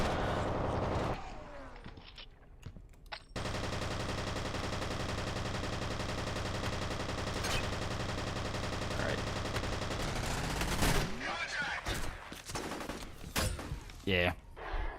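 Sustained submachine gun fire in the video game F.E.A.R., a long dense continuous burst lasting about eight seconds, then trailing off into scattered shots and mechanical clatter.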